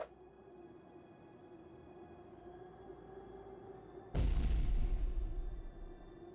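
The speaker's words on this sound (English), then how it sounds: "Iggy tossed the firework into the hole." A firework bursts with a sudden loud boom inside a hole in the video game Beacon Pines, ringing out over a quiet steady background tone before fading.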